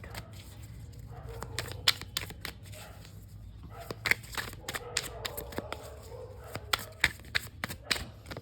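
Tarot cards are shuffled and drawn from a deck, a series of quiet close riffling snaps and slaps in an irregular rhythm with soft rustling between them.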